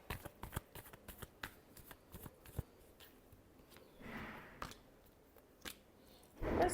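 A deck of tarot cards is shuffled by hand, with a rapid string of crisp riffling clicks up close, then a softer sliding shuffle and a final louder flurry.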